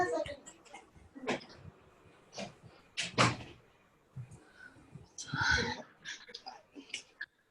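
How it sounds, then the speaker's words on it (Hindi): A door being shut indoors during an online poetry gathering, with several scattered knocks, clicks and a handling thud among sparse noises and brief vocal sounds, fairly quiet and close. "एक सेकंड में दरवाजा बंद करूँ"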